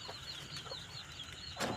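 Chickens, a flock of hens nesting on eggs with a breeder rooster nearby, cluck softly and faintly at a distance, with a brief burst of louder noise near the end.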